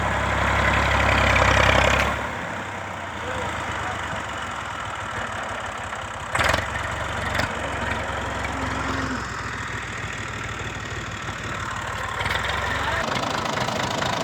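A 2004 model 240 tractor engine idles with a steady low rumble and a brief louder burst at the start, while people talk nearby throughout.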